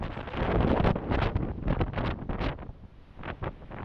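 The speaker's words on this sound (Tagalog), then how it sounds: "Malakas lang talaga ang hangin tsaka ulan." Strong wind gusts and rain at sea buffet the microphone aboard a boat, a loud, continuous roar with rising and falling blasts and no talk.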